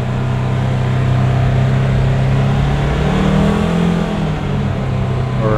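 Polaris Ranger utility vehicle driving with its speed governor limiting it to about 15 mph, engine droning steadily and close by, the pitch rising slightly midway, with no talk over it.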